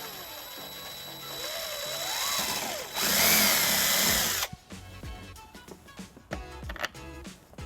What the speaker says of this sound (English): Using the bracket as a template, we're going to drill a 3/16 hole.